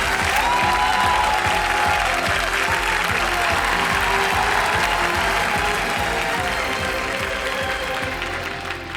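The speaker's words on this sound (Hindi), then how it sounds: "एक बार फिर तालियां बज जाएं इनके लिए।" Studio audience applauding on the Kaun Banega Crorepati quiz show set: steady, dense clapping from a large crowd that carries for about nine seconds before easing slightly at the end.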